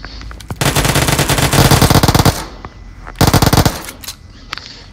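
Loud bursts of automatic rifle fire, an AK, during a PUBG Mobile firefight on the Livik map: a short crack of shots, a long rapid burst, a pause, then another fierce burst with scattered single reports.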